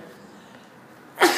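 A person lets out one sudden sneeze at the end of a stretch of quiet room hiss during a classroom midterm review session.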